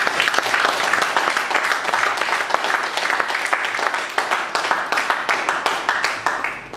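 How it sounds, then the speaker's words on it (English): An audience at a Toastmasters club meeting applauds a first-time evaluator, with dense, steady clapping from many hands sustained throughout and individual claps sharpening toward the end. "A big round of applause for Jacob."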